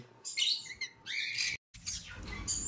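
Bright, close chirps and tweets from pet birds in quick bursts, with a brief gap of silence midway before the chirping resumes.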